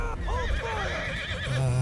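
A horse neighs in the Bannerlord video game, a wavering whinny over the clatter of a battle, with a low thud near the end.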